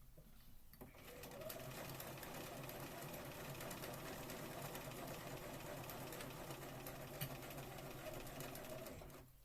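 A sewing machine runs steadily while stitching a Regency dress, a close, even motor hum and needle rattle starting after a brief pause and continuing without interruption to the end.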